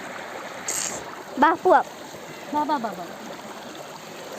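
Stream water flows steadily through the scene as a continuous wash, with brief bursts of nearby talk over it, where people sit with their feet in the water.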